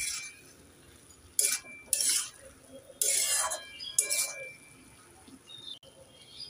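Cabbage curry being stirred in a pan with a few bursts of metal-on-pan scraping and clinking, separated by quiet pauses, close and fairly soft.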